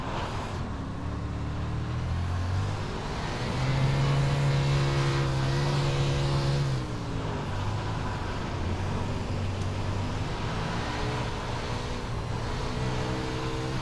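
A wingless USAC sprint car engine in iRacing roars loud and continuous, its pitch rising and dipping as the throttle changes through the corners, with no talk over it.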